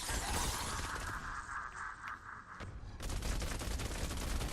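Sustained rapid gunfire from the Candy Corn LMG in Fortnite Save the World, a dense continuous burst of shots with a brief dip before the firing swells back to full intensity.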